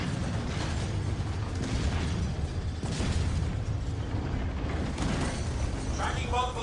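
Loud video-game turret explosion amid continuous combat din, with booming bursts and mechanical clatter layered under dense action noise, while voices talk over it.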